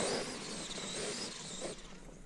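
A Traxxas XMaxx RC truck fitted with a belt-drive system launches at full throttle, its electric whine rising steadily and staying loud and close for the whole stretch, with a hard tire-and-motor roar underneath.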